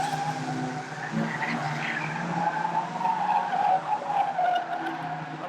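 Stock cars race around a track with a continuous loud engine drone and sustained tire squeal as they skid, the noise steady and close throughout.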